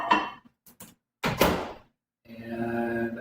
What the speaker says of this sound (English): We're popping it in the microwave.